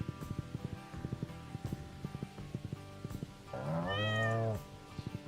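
A cat meows once in Stardew Valley, a single loud, drawn-out call near the end, after a run of soft rhythmic footsteps and light game sounds.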